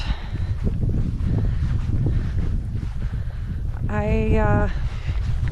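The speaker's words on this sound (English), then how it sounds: "I hope the wind isn't too terrible to listen to" Heavy wind buffeting a microphone outdoors at Lake Louise in South Dakota, a loud rumbling roar throughout, with a brief voiced sound near the end.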